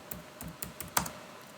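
Keys clack on a computer keyboard while someone types in Microsoft SQL Server: a handful of separate, close taps at an uneven pace, one louder than the rest, with no talking.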